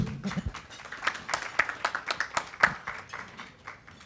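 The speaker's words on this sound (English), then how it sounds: "Give him a round of applause." Conference audience applauds a speaker at a press association meeting, scattered moderately faint claps in a loose irregular patter within a large room.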